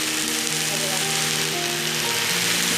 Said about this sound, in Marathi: थोडं पाणी सुटेल आणि चांगलं फ्राय करून घेऊया